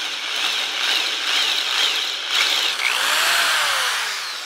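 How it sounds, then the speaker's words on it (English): A loud, high-pitched power drill grinds continuously through metal, its pitch wavering and dipping briefly as the bit works through. "I'm going to hold this with a pair of pliers and drill this out."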